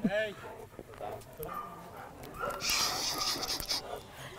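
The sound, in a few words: dog panting, dangerous breed pet dog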